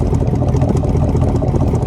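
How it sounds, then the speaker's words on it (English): A truck's exhaust rumbles steadily at idle among trees in the wilderness, a loud, deep, continuous drone with no pauses and no talking. "Listen to this exhaust note."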